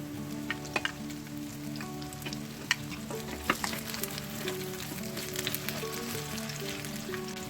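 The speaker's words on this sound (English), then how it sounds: "it's ready to fry. We'll be fry them until they are little golden brown." Small beef burger patties frying in hot oil, a steady close sizzle with faint crackles and occasional pops throughout.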